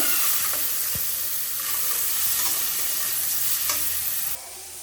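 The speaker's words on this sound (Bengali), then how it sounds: "কড়াইতে এদিকে তেল গরম হয়ে গেছে। তো এখন চলো উচ্ছেটা দিয়ে দিই।" Loud, steady sizzling of bitter gourd frying in hot oil in a wok, with a few clinks of stirring against the pan.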